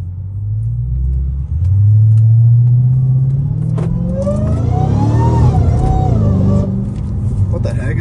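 A Dodge Challenger Hellcat Redeye engine revs up loud and close, its deep rumble rising in pitch then dropping with a quick gear shift before climbing again, while a person talks over it.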